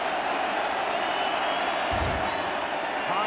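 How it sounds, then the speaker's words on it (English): A football stadium crowd roars with a steady, dense wash of cheering and noise throughout a USC at Washington college game in 2001, with a brief low thump near the middle. "listen to the crowd."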